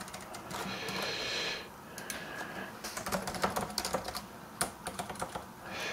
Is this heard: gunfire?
no